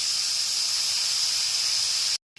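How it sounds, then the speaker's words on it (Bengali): Water poured into a hot pan of vermicelli over a low flame sends up a loud, steady hiss that lasts about two seconds before cutting off abruptly. "ঠিক এইরকমভাবেই জলটা আমি উপর দিয়ে দিয়ে দিচ্ছি"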